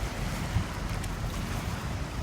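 River waves washing at the South Bank shore at low tide, a constant low rushing wash mixed with wind buffeting, no voices.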